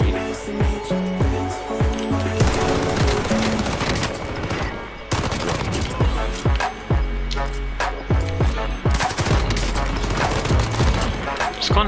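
Rapid, loud automatic fire from a Volkssturmgewehr assault rifle in Warzone, with repeated sharp bursts and short pauses across the clip.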